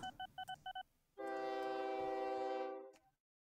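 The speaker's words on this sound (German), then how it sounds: "Also zwischen Nienbrück und Dortmund wird dieser Zug pendeln." Game train in the railway-building game OpenTTD, heard as a few quick electronic beeps followed by a loud, steady horn-like tone that holds for about two seconds and then cuts off, with no talking.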